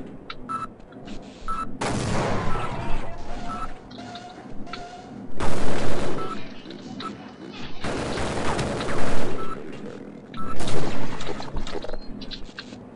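Half-Life video game combat: bursts of gunfire and loud booming explosions from a grenade, with heavy blasts recurring through the scene and a player speaking at points.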